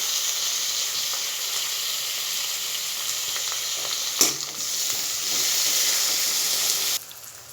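Chopped tomato frying in a pan for squid roast makes a steady, close sizzle, broken by a brief stirring clatter midway. The sizzle grows slightly louder near the end, then suddenly drops quieter.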